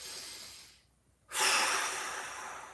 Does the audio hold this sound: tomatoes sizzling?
no